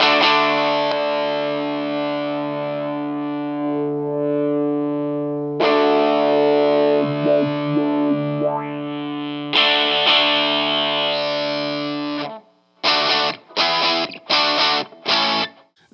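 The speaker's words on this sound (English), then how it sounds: "that is the Stone Def Effects PDF 1X parametric distortion filter" Electric guitar played through a Stone Def Effects PDF 1X parametric distortion filter, with long sustained distorted chords that shift tone and then several short, choppy stabs at the end.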